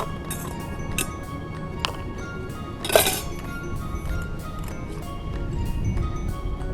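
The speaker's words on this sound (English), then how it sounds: "We're going to put some ice cubes." Ice cubes clink into a glass for a dirty martini made with dry vermouth and olive brine, a few sharp, close taps spread out over soft background hiss, with one louder clatter.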